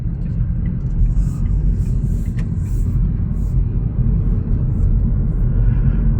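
Heavy Cebu street traffic, heard from inside a moving taxi, gives a loud, constant low rumble of engines and road noise, with faint ticking above it and no break.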